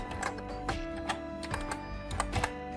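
Keys tapped on a computer keyboard while an author's name is entered in Microsoft Word 2016, a quick uneven run of close clicks with some louder strokes and a faint steady hum underneath.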